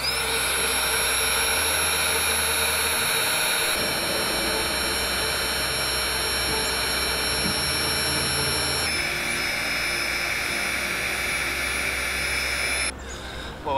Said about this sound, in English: So it is just a tiny little USB rechargeable pump.